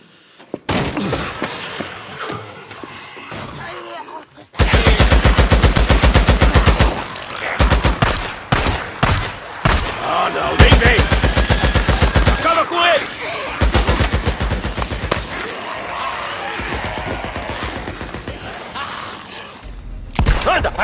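Continuous gunfire in Days Gone: after a quieter opening, a loud, sustained barrage of rapid automatic shots runs almost without a break, with thumps and short gaps, and voices speaking in places.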